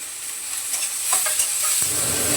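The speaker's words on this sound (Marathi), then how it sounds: "कांदा टाकते कांद्याबरोबर बघा मी हा कोकम घेतलाय" Chopped onion fries with kokum in a hot pan, a steady near sizzle with a few soft stirring scrapes partway through and no voices.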